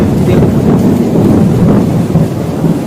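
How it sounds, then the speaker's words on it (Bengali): A rainstorm with lightning brings loud, close rolling thunder rumbling over heavy rain and buffeting wind noise for the full few seconds. "বিশাল বিদ্যুৎ চমকাচ্ছে"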